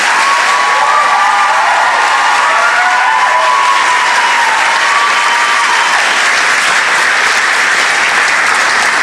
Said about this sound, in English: one more round of applause for an outstanding team